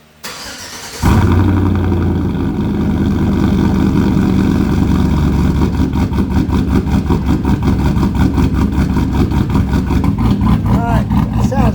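A 2005 Chevy Silverado with side exhaust cranks and fires up, settling into a loud, steady idle with a rough, pulsing rumble for about ten seconds, heard alone up close.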